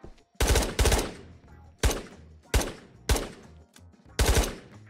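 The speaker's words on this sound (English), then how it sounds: "So it's only a burst gun?" A burst-fire gun shoots in the Ghosts of Tabor VR game, with about six sharp, loud bursts of two or three rapid shots each, spaced roughly half a second to a second apart, close and alone.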